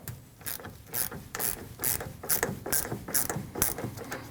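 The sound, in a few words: ratchet loosening 10mm battery terminal nut on Nissan NV2500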